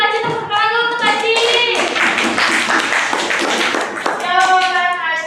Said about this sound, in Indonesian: tepuk tangan dulu untuk Aci